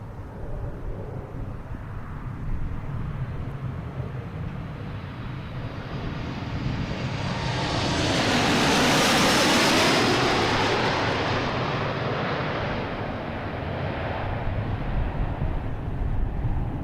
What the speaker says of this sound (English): Is a United Airlines coming from Dulles, 737 MAX 9, flight 688.